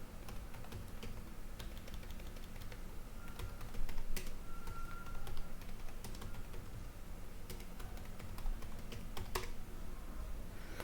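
Keystrokes on a computer keyboard tap in a steady, uneven patter with a few sharper clicks, close and fairly quiet, alone with no talk.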